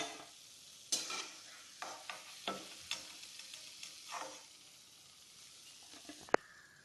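Maida biscuits (shankarpali) deep-frying in hot oil, a soft continuous sizzle broken by a series of quiet stirring scrapes and light clinks, with one sharp tap near the end.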